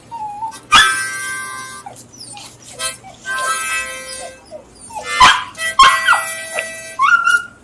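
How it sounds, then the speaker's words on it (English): A dog on a street walking tour in historic St. Augustine howls and whimpers in long, wavering, sing-song cries, loud and close, broken by short gaps and yips. "we're going to brave Noodles, the singing dog"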